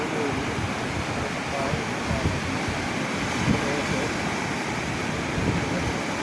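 A flooded river rages in a steady, loud broadband roar of rushing water, continuous throughout with wind buffeting the microphone.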